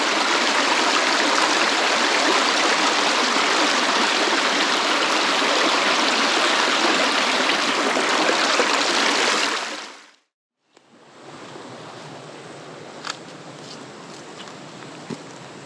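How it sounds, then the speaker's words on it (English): Water flowing in a forest creek in Goethe State Forest, a loud, steady rushing babble close by that cuts off abruptly, then resumes as a fainter, softer flow with a few small ticks and clicks. "listen to the sounds of the flowing water here at the creek"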